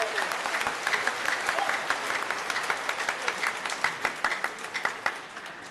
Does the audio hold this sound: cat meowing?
no